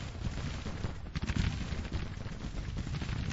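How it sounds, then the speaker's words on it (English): Artillery and gunfire in the Civil War strategy game Grand Tactician rumble as a continuous, dense barrage of distant muffled volleys and booms, steady and moderately loud throughout. "starting to receive artillery and flanking fire out of range"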